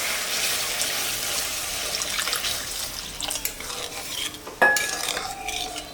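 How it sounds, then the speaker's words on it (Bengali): Water poured into a frying spice mix for a fish curry sets off a loud hiss and bubbling in the pan, followed by brisk stirring and a sharp metallic clink of utensil against the pan. "মশলাটা ভাজা হয়ে গেছে, আমি এখন সামান্য জল দেব।"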